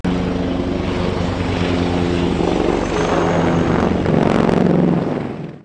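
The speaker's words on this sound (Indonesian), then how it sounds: "Ada helikopter." A toy helicopter runs with a steady whirring, buzzing motor drone that holds level and rises slightly before cutting off, close and loud, with no talk over it.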